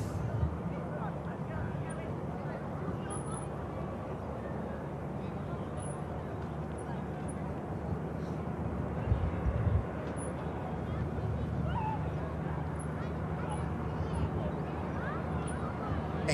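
A Finnair airliner taxiing at Manchester Airport, a steady distant jet engine rumble and whine across the whole stretch, with a voice speaking over it.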